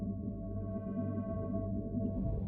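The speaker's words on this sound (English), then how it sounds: "They added a new sound to the beacon. It kind of sounds like some kind of sci-fi reactor." An active Minecraft beacon block from the 18w19a snapshot gives off a steady, low, droning hum with layered tones like a sci-fi reactor, close and continuous with no pauses.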